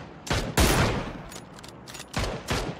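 Sniper rifle shots from an M24 in a video game ring out in sharp, loud cracks, several of them spaced irregularly across the moment with reverberant tails, and no voices over them.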